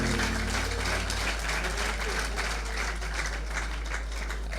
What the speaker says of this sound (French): Des applaudissements pour Juif Thierry.